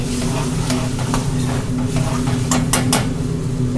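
Base gravy stirred in a very hot restaurant pan while making garlic chilli chicken, giving a steady close sizzle with scraping spoon strokes and light metallic clinks against the pan.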